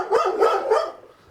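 Dog at an animal shelter giving three quick loud barks in a row, close by, then falling quiet.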